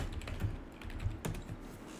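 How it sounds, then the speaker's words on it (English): Keys clacking on a computer keyboard, irregular quick taps and a few louder strokes, fairly faint and steady with no talk over it. "I can hear you typing."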